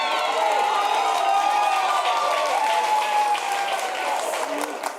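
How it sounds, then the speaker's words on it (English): Large audience at the 2018 World Series of Poker main event final table bursts into sustained, loud applause with cheering and whoops for the winner, steady dense clapping throughout. "Let's have a nice round of applause for Mr. Tony Miles."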